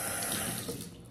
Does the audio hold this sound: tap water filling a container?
yes